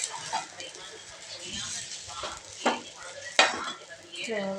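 A dosa roasting on a hot pan gives a soft, steady sizzle, broken by a few sharp scraping and clinking strikes of a spatula, with faint voices in the background.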